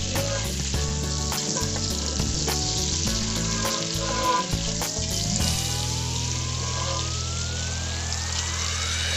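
Kielbasa frying in a seven-flavor roux for Louisiana gumbo, a steady loud sizzle right up close with occasional stirring scrapes, no talking.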